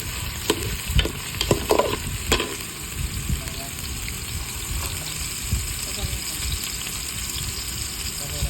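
Onion and garlic sauté in a pan with a continuous close sizzle, while irregular clatters and scrapes of stirring cluster in the first few seconds before the frying settles to a steady hiss.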